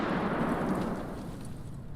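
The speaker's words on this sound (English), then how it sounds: "somebody's chucking them fucking grenades now" Grenade explosions in the video game Escape from Tarkov: a deep, rolling blast rumble that holds steady, then slowly fades over two seconds, heard alone without voices.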